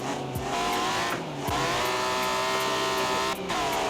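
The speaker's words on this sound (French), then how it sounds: "Et petit bruit de l'M3." A BMW M3 E46 in Forza Horizon 4 revs hard and loud, its engine note climbing through quick gear shifts with brief dips between, tires scrubbing underneath, continuous for about four seconds.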